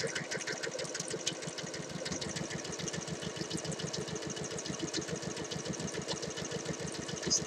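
A home sewing machine runs steadily, stitching a shirt dress along its edge just outside the interfacing, its needle giving a fast, even mechanical chatter up close with no talking.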